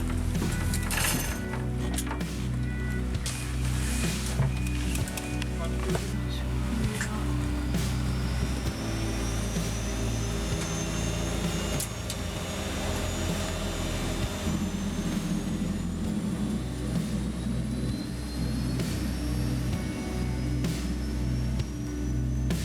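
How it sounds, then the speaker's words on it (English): A helicopter carries passengers toward a mountain base camp in back-country Greenland, its turbine and rotor producing a loud, constant, close roar from inside the cabin, with a rising engine whine and scattered clunks across the ride. "helicopter ride, here we go."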